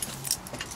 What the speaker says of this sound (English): I'll just gotta find the keys.